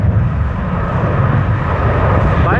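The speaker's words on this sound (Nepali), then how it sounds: "सब क्याथे र हङकङ एक्सप्रेसमा हङकङको प्लेन उड्दैछ साथीहरू" A Cathay Pacific airliner takes off at Hong Kong International Airport, a steady broad jet roar filling the air throughout, loud and sustained, with a hint of rising engine tone near the end.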